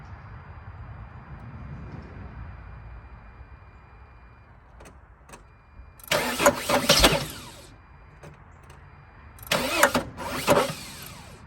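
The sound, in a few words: Sprinter van engine starting on starting fluid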